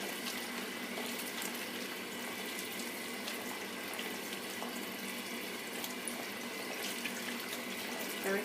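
Canned beans are rinsed by hand under a running kitchen tap. Water splashes steadily and closely for the whole stretch, with faint rustling as the beans are stirred, and no talk.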